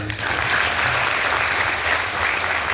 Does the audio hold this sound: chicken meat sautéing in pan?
no